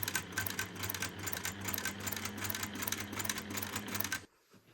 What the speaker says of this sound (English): we're going to take it over to the sewing machine and we're going to sew the full length of that line that we've drawn